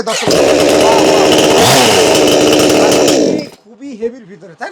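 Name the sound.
chainsaw starting with automatic self-start button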